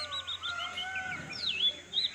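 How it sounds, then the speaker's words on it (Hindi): Birds chirp and tweet around a hilltop temple in open countryside, several short whistled calls and trills scattered over a faint steady background, fairly close and clear. "चारों तरफ से आपको पक्षियों की आवाज़, मीठी और मधुर आवाज़ें सुनाई दे रही होंगी"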